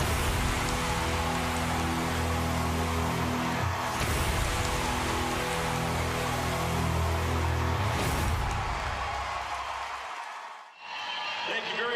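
Heavy rain pours steadily over a stadium, a dense, even hiss that runs on and then cuts out near the end.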